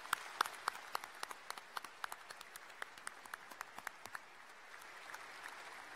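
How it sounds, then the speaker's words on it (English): Sparse applause for a speaker at a graduate ceremony: scattered individual claps ring out in an irregular patter, fairly faint and distant in a large hall, then thin out toward the end. "Another round of applause for Dr. Zhang."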